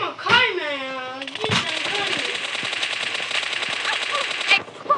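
Rapid gunfire bursts in the mobile battle royale game PUBG Mobile, loud and sustained through most of the moment, with a voice speaking over the start.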